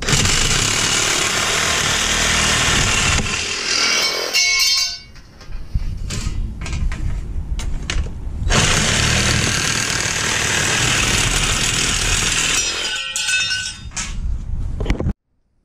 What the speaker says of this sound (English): Let me get the saw.